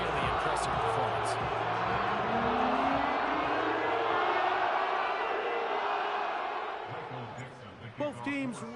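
A home stadium crowd in Madden NFL 25 roars in a broad, sustained wash of cheering that slowly fades, with a commentator's voice talking over it near the end.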